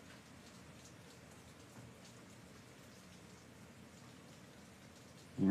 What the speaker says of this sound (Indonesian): Seneng ya, lihat hujan gini.